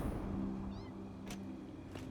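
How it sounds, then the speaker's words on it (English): Cats meow faintly in the video game Satisfactory, a couple of brief, distant mews heard alone over a quiet steady hum. "Oh god, I hear kitties."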